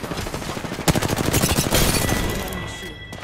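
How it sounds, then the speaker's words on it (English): Rapid gunfire from an Apex Legends match, a dense burst of automatic shots with sharp peaks that run steadily for about two seconds and then fade out. "I am taking fire, friends."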